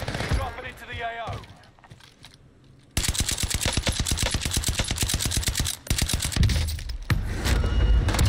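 Rapid automatic MP5 gunfire in a shooter video game, a dense sustained burst of closely spaced shots running for several seconds after a quieter opening, with a brief pause before firing resumes loud and continuous.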